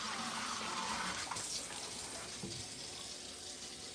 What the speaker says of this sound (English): I'm going to go ahead and just give my paper filter a little rinse with some hot water